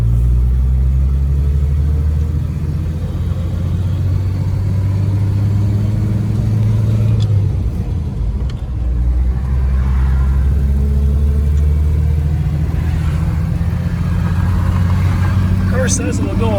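A 1933 Cadillac V12 Town Coupe engine pulls steadily under acceleration as it shifts up into second and third, a continuous low drone with a brief dip around the gear change and voices talking over it.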